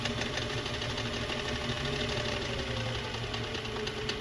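A metal lathe runs steadily before thread cutting on a part for a turbo spaceframe mini chassis, giving a continuous mechanical hum and whir with no talk.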